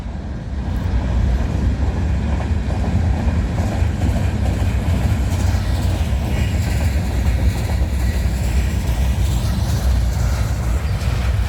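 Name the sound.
CN Rail freight train passing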